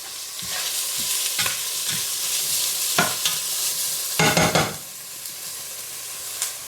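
Garlic and onions sauté in a pan for a vegan chili, giving a loud, close, steady sizzle with repeated spatula stirs and scrapes, including a burst of vigorous stirring midway.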